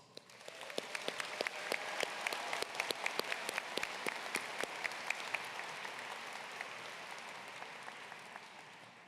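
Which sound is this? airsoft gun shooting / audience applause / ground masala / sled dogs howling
audience applause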